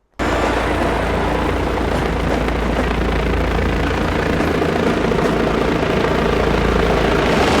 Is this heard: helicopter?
yes